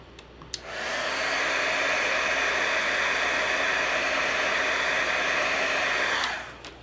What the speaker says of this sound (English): I'm going to hit that with my heat tool once again because I need to paint the other direction.